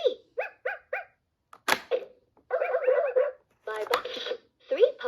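Electronic toy busy board playing recorded puppy barks: several short, bright yips in a quick run, then a pause and more clustered barking and yapping, loud and close, with a synthetic tone to the sound.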